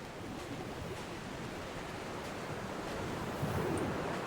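Ocean waves wash steadily onto a beach in the video game Dear Esther, a continuous broad surf roar that swells slightly toward the end, with no voices.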